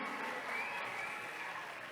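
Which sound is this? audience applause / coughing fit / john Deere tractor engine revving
audience applause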